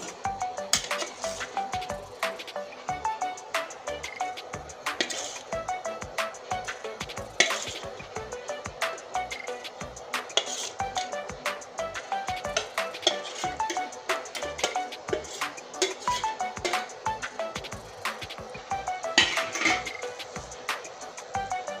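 Fried pomfret and slit green chillies stirred together in a pan for a pomfret and potato kalia, with faint, repeated utensil clinks and scrapes over a soft, steady sizzle.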